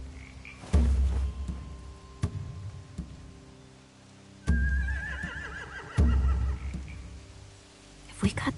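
Horses neigh in The Walking Dead: The Final Season video game, set near a hay-filled barn lit by torches, with several loud, close whinnies rising over a low ambient background.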